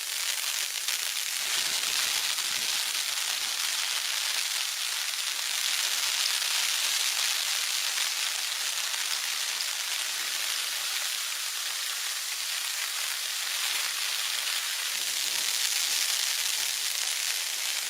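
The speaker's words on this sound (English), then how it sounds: "The rain drumming on the pond outside confirms the environment's unforgiving" Heavy rain drums on a pond outside an earth-and-stone underground shelter during a deluge, a dense, constant hiss of countless drops that stays loud and steady throughout, with no voices.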